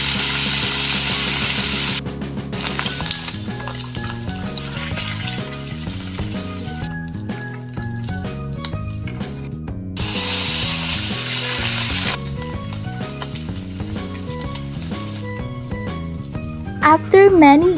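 Bilong-bilong fish frying in hot cooking oil, giving a hissing sizzle that swells in bursts beneath loud, continuous music.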